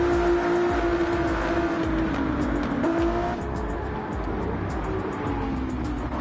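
A race car in a video game slides on worn old tires at Daytona, engine droning steadily at high revs with a long tire squeal running through, close and loud without a break.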